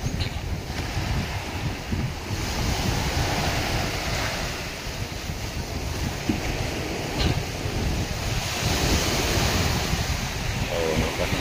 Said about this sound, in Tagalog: Ang lakas ng alon, ang malalaking mga alon.